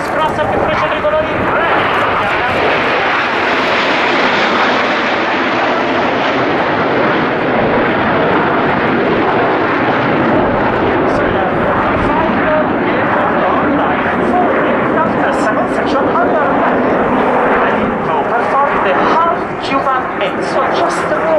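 Italian Air Force Frecce Tricolori jets fly an aerobatic display at the RIAT 2011 airshow, producing a loud, sustained roar that swells and fades slightly, with a commentator's voice likely beneath it.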